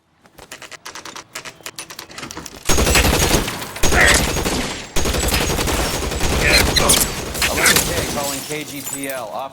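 Gunfire in L.A. Noire, starting as a few sharp scattered shots and then bursting into a loud, dense fusillade that runs on with brief pauses, with speech and shattering sounds mixed in.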